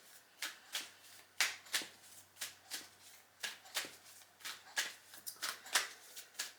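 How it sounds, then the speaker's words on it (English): A tarot deck being shuffled by hand, a close series of crisp riffling bursts in an uneven rhythm, about a dozen quick card rustles with short pauses between, no talking. "Giving the deck a good old shoo."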